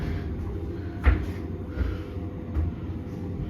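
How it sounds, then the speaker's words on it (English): KONE MonoSpace machine-room-less traction lift doors slide shut at Melbourne Central Shopping Centre, giving a few soft thumps and rumbles over a low steady hum. "Please stand clear of the doorway. Doors closing."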